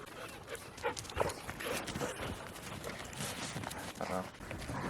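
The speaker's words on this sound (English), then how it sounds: "Crazy dog." A dog pants and whimpers in snow amid rustling, scuffling movement, with short excited noises scattered throughout and people talking in the background.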